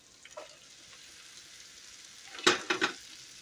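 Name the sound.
chopped okra added to hot oil, frying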